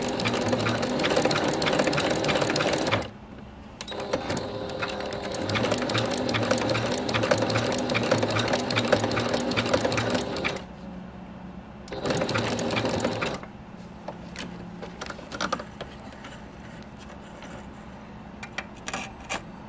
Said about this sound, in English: now I'm gonna get to sewing.